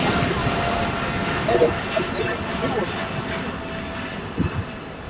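Airliner on a flight to Newark at LAX, a steady broad engine roar running throughout with voices talking over it and occasional brief louder bumps.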